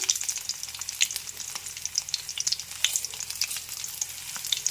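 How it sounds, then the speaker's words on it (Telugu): Tempering for ajwain rice crackles in hot oil, a bright, busy sizzle with rapid irregular pops and spits, close up and moderately loud, with no voices over it. "ఇదిగోండి ఈరోజు వాము అన్నం తాలింపు పెట్టి మీకు చూపిస్తాను"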